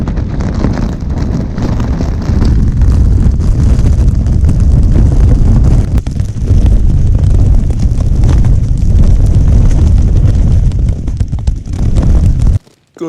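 Strong wind blasts against a tent at a mountain wild camp on Beinn a Chliabhain, Arran, a loud, constant, roaring buffet that gusts throughout and cuts off abruptly at the end.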